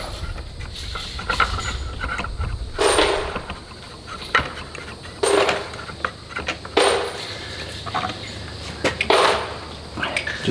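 A Terminus Zeus switch barrel is slid back into the rifle with a string of close metallic clicks, scrapes and sliding contacts, sounding in separate bursts against a quiet background.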